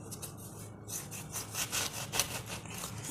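A knife cutting slits into a thorny country eggplant, heard as a close, faint series of rough scraping, sawing strokes repeating unevenly, with no voices.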